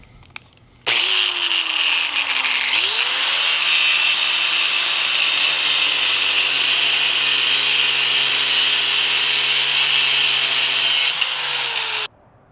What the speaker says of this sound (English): Now we're going to cut the excess threads off.